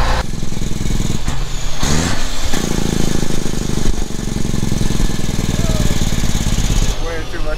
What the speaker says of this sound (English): Oh, engine brake, 2-stage.